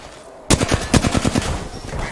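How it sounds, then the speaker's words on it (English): Enemy gunfire in the Apex Legends video game: rapid bursts of automatic shots crackle loudly and close, one volley after another, with no talking. "The enemies are shooting at me."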